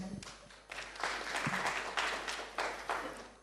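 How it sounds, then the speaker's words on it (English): Audience applause on a morning TV talk show, a steady patter of many hands holding at a fairly even level for a few seconds, with no voices. "Let's give a round of applause."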